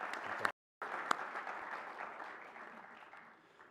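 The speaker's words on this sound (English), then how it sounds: "Can we give them a round of applause, because they do a beautiful job." Audience at an evening MLK celebration applauds the event committee, a broad wash of clapping that breaks off briefly near the start, then resumes steady and slowly fades.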